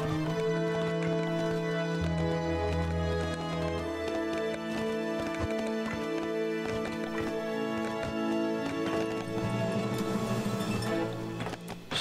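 Horse hooves clip-clop in the strategy game 0 A.D. in a Carthaginians versus Romans match, a steady clatter mixed under continuous game music throughout.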